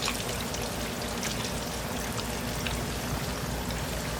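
Liquid poured into a dish while cooking chapati fried chicken, a soft continuous splashing trickle, faint and steady throughout with no voices.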